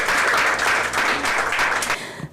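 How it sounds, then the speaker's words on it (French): Applause from the audience at a reading competition on stage, a dense burst of many hands clapping that carries on steadily before tapering off at the end. "Maintenant nous voulons applaudir encore une fois Smadoubi."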